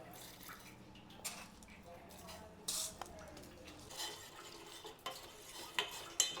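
Flax seeds and fenugreek seeds simmer in water in a pot on low heat while a spoon stirs and scrapes intermittently, with soft clinks of metal on the pot and faint bubbling.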